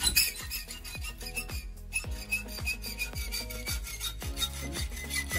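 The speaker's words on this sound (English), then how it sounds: "Yeah, but it's so much more fun with a hacksaw." Hacksaw cutting through a pot metal car rearview mirror part, steady rhythmic rasping strokes repeating about once per half second, close and fairly loud, with music-like tonal background throughout.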